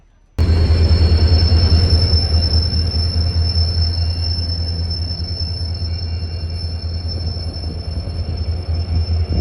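A train on the Yesvantpur route in Karnataka rolls past close by with a loud, sustained rumble and a steady high wheel squeal lasting throughout.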